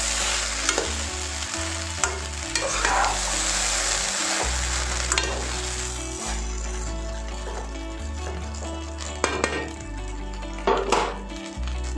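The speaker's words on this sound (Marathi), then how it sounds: "अंडं टाकून झाल्यावर त्याला अजून एकदा व्यवस्थित असं मिक्स करून घ्यायचं आहे." Egg fried rice is stirred in a hot pan, continuous sizzling with repeated scraping and clinking of a spatula against the metal, rhythmic strokes throughout and a few sharper knocks.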